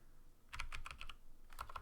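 Quick bursts of keystrokes on a computer keyboard as terminal commands are typed for a Hydra node setup, a short flurry of clicks followed by a brief pause and a few more taps, close and crisp with no talking.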